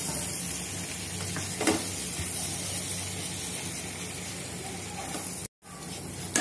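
Flour roasting in melted butter in a pan while a white sauce for pasta is made, giving a soft, steady sizzle and hiss with faint stirring scrapes, continuous and fairly quiet, with one brief dropout near the end.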